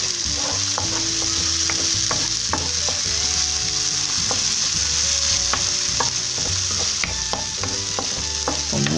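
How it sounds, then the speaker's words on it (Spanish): Garlic sizzles and fries in a pan, a constant crackling hiss close up, with occasional scrapes and taps of a utensil stirring. "Vamos a freír bien el ajito."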